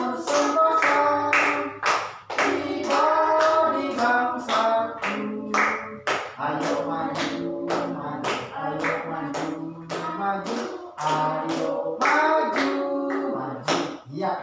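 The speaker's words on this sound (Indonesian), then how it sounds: "Kasih tepuk tangan lagi sekali" A primary school class of fifth graders claps in a steady rhythm, sharp hand strikes roughly twice a second, over children singing together, loud and close throughout.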